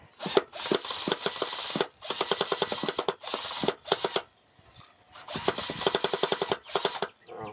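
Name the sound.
drill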